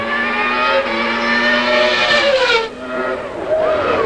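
A 1991 Formula One car brakes hard into a hairpin during practice in Australia, its loud, high engine note dropping and wavering as it slows and downshifts, with crowd and track ambience behind it.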